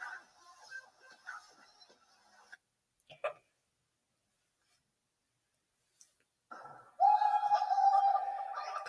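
A pet bird coos softly indoors in short, close murmurs separated by near-silence, then a louder sustained cooing call near the end.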